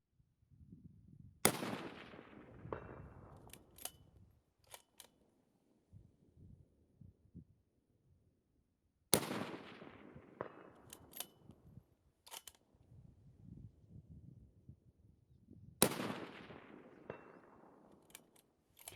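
Three sharp rifle shots from a Ruger American Lightweight Hunter fired at rock chuck targets, evenly spaced several seconds apart, each a loud crack followed by a long rolling echo decaying across open terrain.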